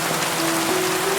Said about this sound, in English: Rain taps lightly on the glass